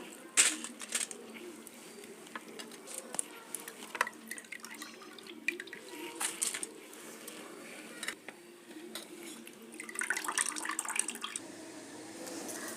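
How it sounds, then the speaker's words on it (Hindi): Excess water drips and trickles out of soaked rice held in a sieve, scattered faint drips and small splashes with a brief gush of running water toward the end. "जो इसका एक्स्ट्रा पानी है चन्नी से निकल जाएगा।"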